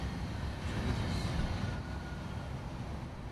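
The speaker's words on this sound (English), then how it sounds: "Sounds like a train." A train rumbles past in the truck-driving game American Truck Simulator, a steady broad low roar that swells slightly and holds, with no talk over it.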